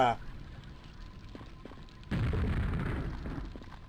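A lava ball explodes in the Quake video game: one sudden, loud booming blast about halfway through that rumbles and fades slowly, after a quieter stretch of faint game ambience.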